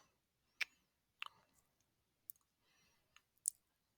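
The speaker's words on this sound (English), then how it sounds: "Let me just click this and see what happens." Sharp, isolated computer mouse clicks sound about five times at irregular intervals during course-site navigation, close and crisp against near silence.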